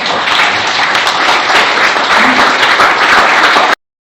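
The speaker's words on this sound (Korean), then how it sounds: "큰 박수로 맞아주시기 바랍니다" Breakfast forum audience applauds loudly as the ambassador is welcomed to the podium, a thick burst of many hands clapping that runs steadily for almost four seconds and then cuts off abruptly.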